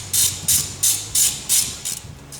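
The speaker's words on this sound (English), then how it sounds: "I'm going to start by taking this little brake hose retainer clamp off the top of the knuckle here." Brake hose retainer clamp being pried off the top of an ATV steering knuckle in a shop: six or seven sharp metallic ratcheting clicks in an even rhythm, close and fairly loud, with no talking.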